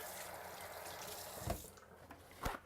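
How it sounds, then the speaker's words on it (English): Hands being washed under a running kitchen tap: a steady, fairly quiet stream of water with two brief splashy surges as the hands move through it. "Let me give a little hand wash here."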